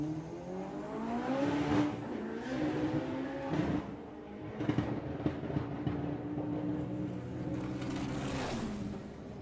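Front-wheel drive drag racing car making a run at Santa Pod's Bug Jam, a rising engine roar from a distance with shifting pitch and crowd-like ambience, moderately loud without speech.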